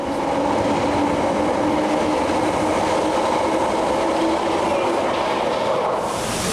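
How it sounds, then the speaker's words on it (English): A London Underground subway train rumbles steadily throughout, with a continuous loud roar of wheels and carriages on the track, close by and without talk. "The subway system, which is called the Underground, is a very convenient transportation system to move around London."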